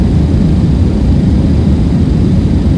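Boeing 727 Super airliner approaching to land in Flight Simulator 2024, a loud, constant, dense jet engine roar with no breaks or voices.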